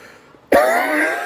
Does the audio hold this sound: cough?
yes